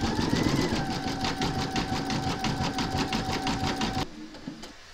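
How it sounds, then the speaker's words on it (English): A sewing machine zigzag stitching the raw edges of a large appliqué, a rapid, regular mechanical chatter up close that stops abruptly near the end, with no talking. "You're now going to stitch round number 8, and that's going to zigzag the raw edges"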